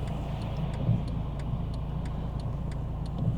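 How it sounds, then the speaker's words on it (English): Steady low road traffic rumble heard from inside a moving car, a continuous engine and tyre drone with faint regular ticking clicks, no talk. "Look at all this traffic."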